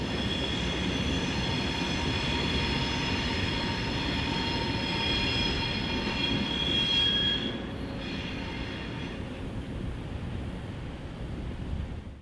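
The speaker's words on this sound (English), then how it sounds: "The train heads back around the curve and toward the tunnel as the trip back to Van Buren gets underway." An Arkansas & Missouri Alco diesel train rounds a curve toward a tunnel in the Ozarks, its wheels squealing continuously against the rails over a steady rumble, moderately distant and without voices.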